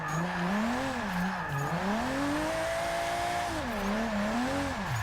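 A drift car in the racing game Forza Motorsport 6 at the Catalunya circuit, its engine revving up and down in long swells while tires squeal steadily underneath, loud and continuous with no talking.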